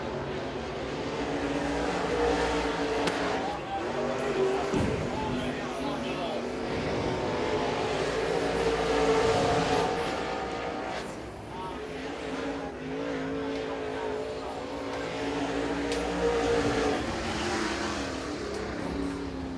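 Race car engine on a qualifying lap at Rome Speedway, a steady roar circling the oval with rising and falling pitch, heard under continuous public-address announcing.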